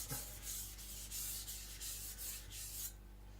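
Chinese cleaver from IKEA drawn across a sharpening stone in about eight quick, even strokes, each a faint gritty scrape, close up, then a pause at the end.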